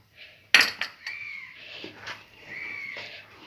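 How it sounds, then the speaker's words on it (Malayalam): A spoon scrapes and clinks against a pan while Tirunelveli halwa is stirred in ghee. A sharp clatter comes early, followed by lighter, irregular metal-on-metal taps and scraping. "ഇനി ഇത് നമുക്ക് നല്ലപോലെ ഇളക്കി കൊടുക്കാം."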